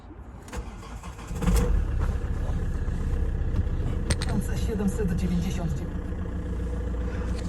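Used car under inspection for a client in Poland, its engine cranking and catching just before the two-second mark, then settling into a steady, even idle with faint voices nearby.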